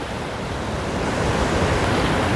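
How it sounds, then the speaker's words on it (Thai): Sea waves surge and break at Surin Beach, Phuket, at high tide under strong wind, a dense, steady roar of surf and gusting air that grows slightly louder toward the end. "ทุกคนอันนี้น้ำขึ้นนะครับ ลมแรงสักนิดนึงนะครับ"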